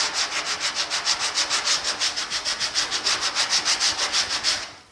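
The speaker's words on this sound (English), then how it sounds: "I can safely sand around this corner and not worry about putting a deep groove" Hand sanding around a corner of a 1950 Chevy truck cab, a steady series of close, rhythmic rasping back-and-forth strokes, about five per second, continuing alone without talk.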